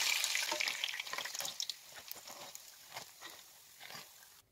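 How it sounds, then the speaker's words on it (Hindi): Bread rolls frying in hot oil, giving a close, bright crackling sizzle that starts strong and eases off, with a few soft clicks of handling in the pan. "रोल हमारे अच्छे से फ्राई हो गए हैं"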